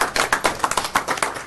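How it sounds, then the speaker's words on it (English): A short round of applause at a city council meeting: quick, rhythmic clapping from a small group, moderately close, with no talk over it. "We'll give Sean a round of applause"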